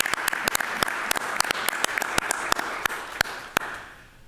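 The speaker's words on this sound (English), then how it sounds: "I just would like to give a public round of applause to everybody that did everything for those graduations" Applause from a school board of education meeting audience, a steady patter of many hands with sharper individual claps standing out, fading away at the end.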